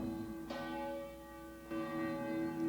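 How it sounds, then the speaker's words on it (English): Two church bells, the larger St. Michael in the north tower and the smaller St. Gabriel in the south tower, ring with sustained, ringing tones. Fresh strikes land near the half-second mark and again around 1.7 seconds, with the hum carrying on between them. "the bells, St. Michael and St. Gabriel, provided the only music for the congregation"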